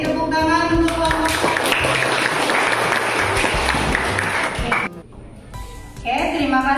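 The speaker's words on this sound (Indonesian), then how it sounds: "Beri tepuk tangan untuk kelompok" Classroom applause for a student group after their economics presentation, a burst of clapping under overlapping student voices that cuts off near the end before talk resumes.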